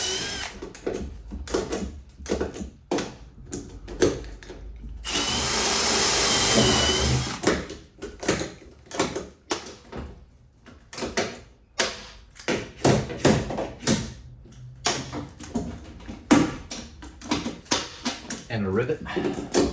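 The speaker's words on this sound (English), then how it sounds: "using aluminum rivets so that I don't have any dissimilar metal trouble" Aluminum rivets being set on a camper wheel well, a rapid series of sharp pneumatic rivet-gun bursts and snapping pops with a longer sustained whir in the middle, close and loud, with a person talking in between.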